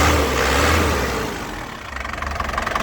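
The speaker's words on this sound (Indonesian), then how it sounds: "Jadi mesinnya ini dinyalakan sekali langsung cegreng, tandanya mobilnya sehat." A black 2007 Isuzu Panther Touring Turbo diesel with about 120,000 km starts up and settles into a rough, knocking idle, then gets a few quick throttle blips, loud and close with no talk.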